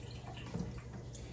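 Irish moss being rinsed in raw spring water makes a steady, soft wash of trickling and sloshing water, close but faint, with no talk.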